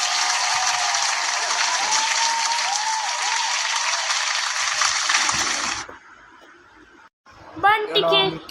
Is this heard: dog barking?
no